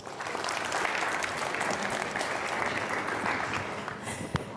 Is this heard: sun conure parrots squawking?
no